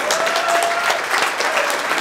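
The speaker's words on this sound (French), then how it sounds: "Je pense qu'on peut se lever pour leur donner une bonne main d'applaudissement." Audience at a political fundraising cocktail and conference rising to give a warm round of applause, steady dense clapping throughout with a lively crowd texture.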